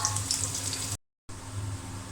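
Chopped garlic and four or five dried chilies fry in hot oil, giving a steady, hissing sizzle close by that drops out briefly midway and then resumes.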